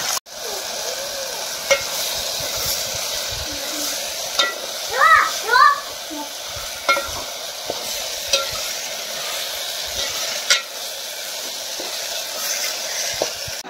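Bajra flour sheera fries in oil in a pan and is stirred, giving a steady soft sizzle and hiss. Sharp scraping clicks from the spoon recur, and brief high chirps rise briefly midway.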